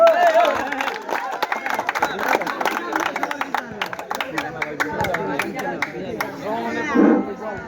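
A crowd claps in a rapid, scattered patter at a football final ceremony in Nagarkanda. Someone speaks over the applause on a loudspeaker.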